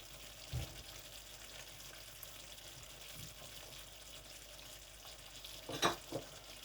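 Chicken malai curry being stirred in a pan over low heat, with a soft, steady sizzle and a few quiet scrapes and knocks of the spoon, one louder clatter near the end.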